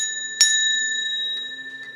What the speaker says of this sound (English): Got my bell.